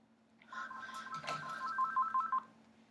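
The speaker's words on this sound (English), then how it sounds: "Oh, phone." A telephone rings with a short electronic ringtone, a few rapid repeated beeps lasting about two seconds, close and fairly loud against a quiet room.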